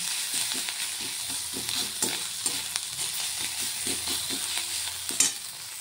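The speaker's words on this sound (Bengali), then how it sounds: "এদিকে দেখো মাছের তেলটাও আমি ভেজে নিচ্ছি।" Fish fat frying in hot oil in a home kitchen, a continuous close sizzle broken by repeated scraping and tapping strokes of a spatula stirring in the pan.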